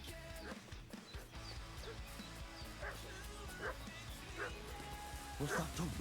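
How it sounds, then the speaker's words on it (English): A dog barks and yips repeatedly in the medieval video game Kingdom Come: Deliverance II, with short sharp bursts over ambient game sound and a louder cluster of barks at the end. "What's that dog making such a fuss about?"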